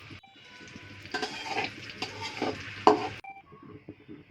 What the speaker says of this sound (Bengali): একটি কড়াইয়ের মধ্যে আমি কিছুটা তেল দিয়ে এখন পেঁয়াজ দিয়ে সুন্দর করে এটাকে ভেজে নেব।